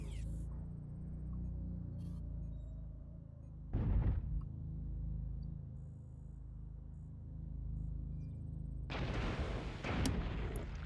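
Weapon fire in a mech combat video game, PPC and extended-range large laser shots, heard as two loud bursts, one short blast near the middle and a longer crackling discharge near the end, over a constant low engine hum.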